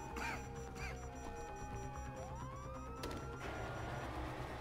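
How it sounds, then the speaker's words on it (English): A police siren in Grand Theft Auto 5 wails and sweeps up and down over a steady low rumble, with a brief crash near the end. "you hear that? Sirens!"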